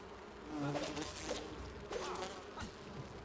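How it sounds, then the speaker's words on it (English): Insects buzzing in the video game Enshrouded during a fight with bees using a sword, a steady droning hum with sharper swipes and hits scattered through it. "Now I'm fighting bees with a sword"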